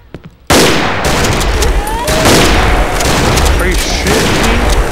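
Gunfire in the multiplayer horror video game Cry of Fear, loud and sustained rapid shots filling the whole clip after a brief voice at the start.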